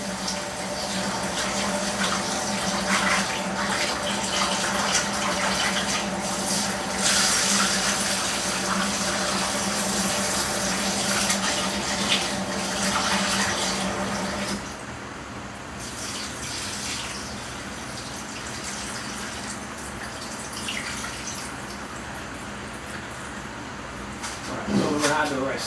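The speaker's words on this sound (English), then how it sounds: "Now we're gonna wash our rice." Rice is rinsed under a running tap while cooking rice and peas, a steady rushing splash of water that carries on throughout and drops slightly in level about halfway through.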